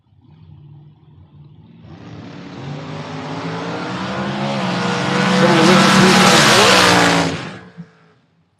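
Drag race cars launch and accelerate down the strip, a Race Tech chassis car and a dragster, their engines building into a loud, rising roar that peaks and then cuts off abruptly near the end.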